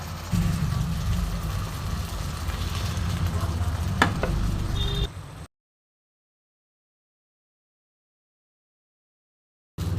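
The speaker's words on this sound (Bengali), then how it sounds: "মশলা ধোয়া জলটা আমি কড়াইয়ে দিয়ে দিচ্ছি" Spice-washed water goes into a hot kadai while cooking fish, setting off a steady, close sizzle for about five seconds before the sound cuts out abruptly.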